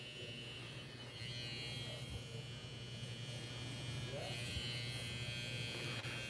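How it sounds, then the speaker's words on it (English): A faint, steady electric buzz from a hair trimmer cutting hair during a fade haircut continues without a break at low volume. "Combing that hair down and letting it get into the trimmer blade."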